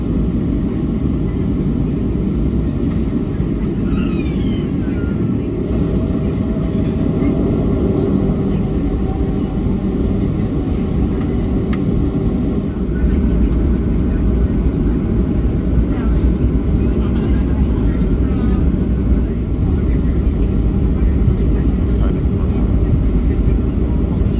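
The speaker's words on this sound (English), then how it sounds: "release the parking brake, and begin our taxi to Las Vegas' runway 26 right" Southwest Airlines airliner taxiing at Las Vegas toward runway 26 right, heard from the cabin as a steady, heavy engine and rolling rumble throughout, with muffled voices at times.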